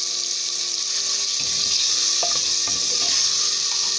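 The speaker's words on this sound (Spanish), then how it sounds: "Vamos a dorar" Garlic, onion and ají chili pepper frying in a pan, a steady loud hiss of sizzling oil with a few soft stirring knocks in the middle.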